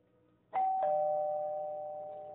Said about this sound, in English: It's the doorbell ring.